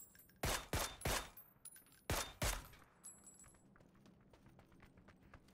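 Gunfire in the battle royale game PUBG: a few sharp, loud shots in two quick pairs, then quieter clicks and faint rattles.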